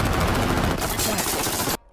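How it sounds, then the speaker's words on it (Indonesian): Gunfire in a sniper action film, a loud dense burst of shots that crackles for nearly two seconds before cutting off abruptly. "akhirnya Yuki mencoba menembak lengan petugas tersebut dengan tujuan agar ia bisa kabur dari tempat itu."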